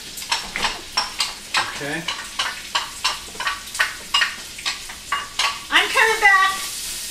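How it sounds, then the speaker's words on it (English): Chopped onion stirred in a hot pan for pasta and peas with pancetta, with about a dozen rhythmic scraping strokes over a steady sizzle, close and clear; a voice speaks briefly. "We're stirring in one whole chopped onion there."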